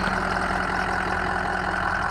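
A 2003 Ford F550 diesel bucket truck with a Versalift boom idles steadily with the PTO engaged on a warm day, a constant close, rumbling drone with no speech.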